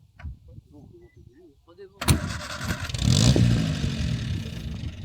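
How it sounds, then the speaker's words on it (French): A 1930s classic convertible's engine cranks and catches with a sudden loud burst, then settles into a rough, rising idle, after a couple of seconds of talk, at a prestige car rally at Château de Colembert. "C'est une bagnole des années 30, elle démarre."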